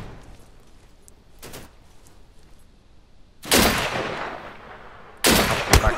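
Sharp gunshots in Deadside, a faint early crack followed by two loud close bursts of firing with short ringing tails, separated by quiet.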